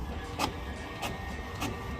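An HP Officejet 6500 all-in-one printer with a paper-pickup fault tries to feed paper, making three evenly spaced mechanical clunks over a steady motor hum.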